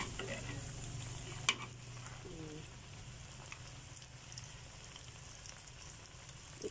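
Fish and vegetables with egg frying and browning in a pan, a soft continuous sizzle with an occasional clink of a utensil, quiet and close.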